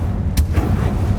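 Confringo fire spell blast in Hogwarts Legacy, a sharp explosive crack followed by a short rumbling decay, loud and close.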